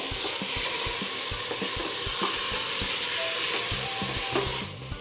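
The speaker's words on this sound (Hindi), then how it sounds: "गैस को हम हाई फ्लेम पे करके दो मिनट के लिए चिकन को अच्छे से फ्राई करेंगे" Chicken frying with onions in a pan over a high gas flame: a loud, continuous sizzle with rhythmic scraping and stirring thumps, alone without talk.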